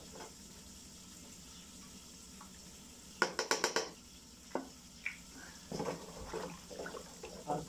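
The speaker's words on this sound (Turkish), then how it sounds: "Manolya için faali ilacı karışım yapıyoruz." Someone stirs a pesticide spray mixture for cherry trees, with a 5% Manolya product mixed in a container, producing irregular sloshing, stirring splashes and a quick run of sharp clinks in a quiet outdoor setting.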